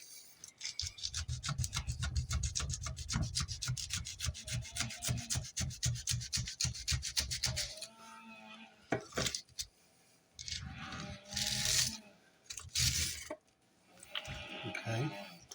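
A fillet knife saws steadily through a pineapple in rapid, rasping rhythmic strokes for several seconds, then a few separate cutting bursts follow with pauses between them, close up.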